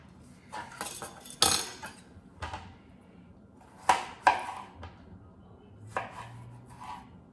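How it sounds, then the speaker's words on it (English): A knife slicing cucumber on a cutting board, a series of sharp irregular chops and clacks, close and distinct, with quiet pauses between cuts and no talking. "Going to slice up some cucumber"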